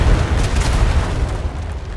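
Cannon fire strikes a ship in the video game Atlas, a loud, dense rumbling boom that stays heavy and low throughout and fades slightly near the end, with no voices.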